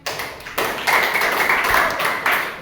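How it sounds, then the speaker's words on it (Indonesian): A classroom of students applauding: loud, close clapping that starts in bursts and swells into steady collective applause, with a faint tonal ring running underneath. "Oke, kita kasih tepuk tangan."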